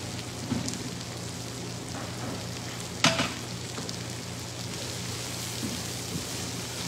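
Carrots and other vegetables stir-frying in a pan at home, a steady close sizzle with a few louder scraping stirs, no talking.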